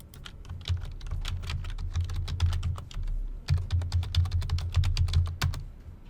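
Rapid clicking of keys on a computer keyboard as a password is entered, two close, continuous bursts of uneven taps separated by a short pause, with a low hum underneath.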